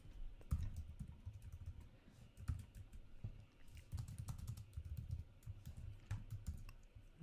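Quiet, irregular clatter of keys on a computer keyboard as code is typed, bursts of rapid taps separated by brief pauses, close and soft.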